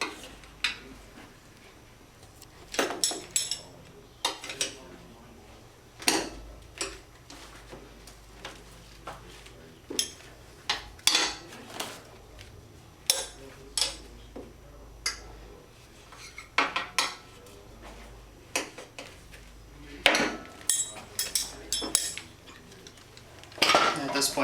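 Metal tire spoons lever a dirt bike tire off its rim in a run of sharp, separate metallic clanks and scrapes. The hits come at uneven intervals over a quiet background.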